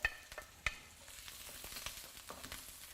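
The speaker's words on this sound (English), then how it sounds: "You'll hear the popping sound once you start stir frying." Salted radish sizzles steadily in a hot wok while stir-frying, with sharp little pops and crackles scattered throughout, fairly quiet and close.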